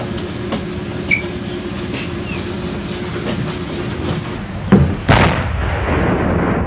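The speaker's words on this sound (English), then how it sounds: "let's let Seth shoot his cannon right now." A cannon fires with a loud, abrupt boom near the end, a sharp blast followed by a second percussive crack and lingering rumble, standing out against a steady noisy outdoor background.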